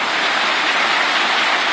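Steady, dense hiss of rain falling, loud and close, continuous with no breaks or voices.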